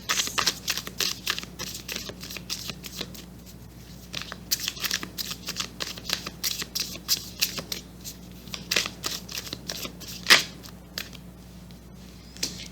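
Tarot cards being shuffled and drawn, a run of quick papery riffles, flicks and slaps close by, with one sharper snap near the end and a faint steady hum underneath.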